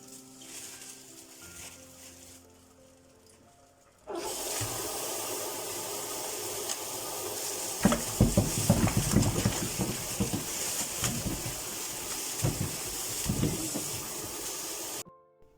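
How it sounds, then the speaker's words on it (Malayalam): Mangoes being washed for pickle under running water: quiet handling at first, then a steady loud gush from the tap with splashing and patter as hands rub the fruit. "മാങ്ങ നന്നായിട്ടൊന്ന് കഴുകിയെടുക്കുകയാണ്"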